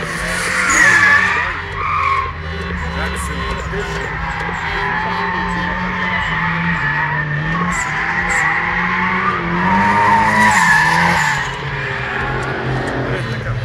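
Cars drifting at a drifting show, with sustained tire squeal and skidding over roaring engines, loud and continuous with swells of revving, while people talk faintly underneath.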